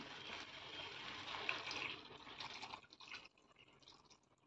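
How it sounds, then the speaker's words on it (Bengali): Hot water being poured into a chicken curry in a pot, a faint continuous gushing splash that tapers and breaks into trickles toward the end, heard alone. "এবার জল দিয়ে দেব। জলটা আমি গরম দিচ্ছি।"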